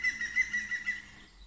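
A bird chirps in short repeated high calls, a quick rhythmic series that fades near the end, fairly close and alone over faint low background hum.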